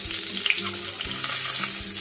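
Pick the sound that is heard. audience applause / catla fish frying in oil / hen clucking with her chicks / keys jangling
catla fish frying in oil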